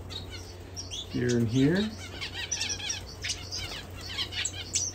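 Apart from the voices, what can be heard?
canary fledglings chirping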